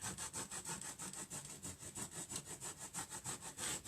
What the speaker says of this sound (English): Just rub it down, guys.